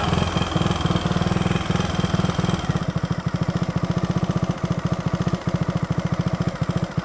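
A motorcycle engine runs steadily up close while riding through Tokyo streets at night, a continuous pulsing rumble with a brief change in tone early on, then a throbbing rhythm that holds throughout.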